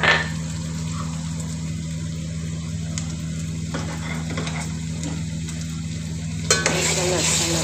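Garlic and ginger fry with softened onion in a pan for a minced-meat green chili dish, giving a continuous even sizzle with occasional stirring scrapes over a low steady hum.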